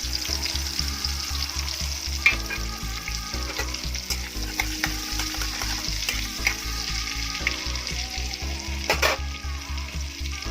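Butter frying in a pan for pav bhaji, a steady close sizzle with a low rhythmic bubbling pulse and occasional stirring scrapes, running alone without talk.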